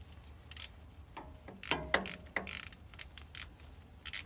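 A hand ratchet wrench tightening drive shaft bolts on a 1999 Ford F350 Powerstroke pickup: quiet, irregular bursts of ratcheting clicks and metallic ticks, close by, with a few sharper snaps in the middle.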